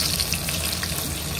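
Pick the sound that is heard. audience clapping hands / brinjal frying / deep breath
brinjal frying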